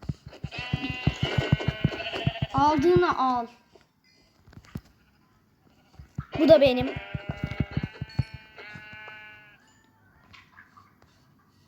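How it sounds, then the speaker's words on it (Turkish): Two long, buzzy Minecraft sheep bleats ring out a few seconds apart, each overlapping brief spoken words, with quiet pauses between. "Burada tam üç koyun var."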